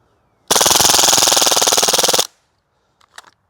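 A full-auto sidearm, such as a Glock 18C or AAP01, empties a whole magazine in one loud, very rapid unbroken burst of just under two seconds, followed by silence and a few faint mechanical clicks.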